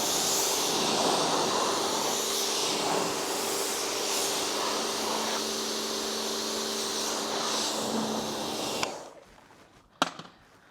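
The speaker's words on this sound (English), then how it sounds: "let's see how much it takes off with now a pressure washer" Pressure washer spraying a VW Tiguan during a car clean, a steady loud hissing rush of water that stops abruptly near the end, followed by a sharp knock.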